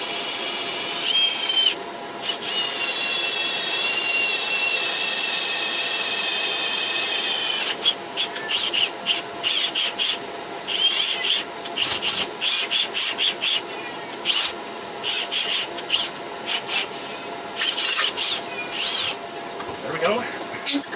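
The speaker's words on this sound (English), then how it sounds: "so I can drill it without it moving around." A power drill with a 1/4 inch bit whines steadily for several seconds, then stutters in short bursts as it bites through metal held in a vise, with a faint voice in the background.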